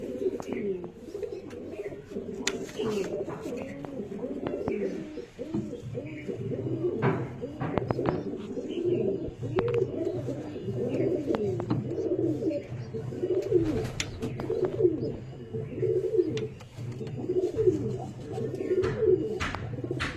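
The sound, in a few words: pigeons cooing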